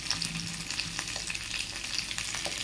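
Tomatoes fry in a pan for methi paneer, a soft continuous sizzle with occasional crackles and light stirring scrapes, fairly quiet and close, no voices.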